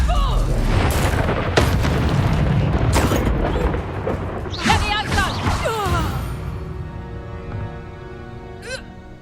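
Confringo blasting spells go off during Hogwarts Legacy combat: several loud, booming bursts with whooshing swishes between them, close and dense, fading toward a quieter tail.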